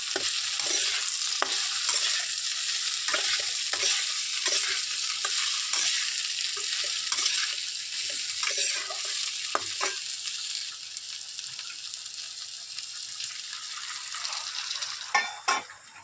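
Cauliflower and potato with poppy seed paste fry in a pan while a spoon repeatedly scrapes and clinks against it, all over a continuous close sizzle; the clatter turns sharper near the end.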